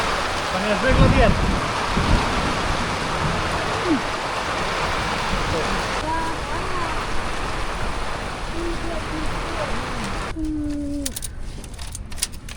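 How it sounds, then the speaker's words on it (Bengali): Heavy rain from a violent Kalbaishakhi storm on a remote river char island, a dense steady hiss of downpour lasting throughout, with occasional faint voices and a few brief tones near the end. "এদিকে বৃষ্টি এখনো বৃষ্টি পড়তেছে"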